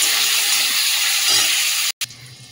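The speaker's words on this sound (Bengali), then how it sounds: "তেলের মধ্যে যে চিকেনটাও তো সস রসুন নুন দিয়ে এবং ম্যারিনেট করে রেখে দিয়েছিলাম, এটাও ভেজে নেবো হালকা করে।" Chicken marinated with sauce, garlic and salt fries in hot oil, giving a loud, steady close-up sizzle that cuts off abruptly near the end before a quieter crackle resumes.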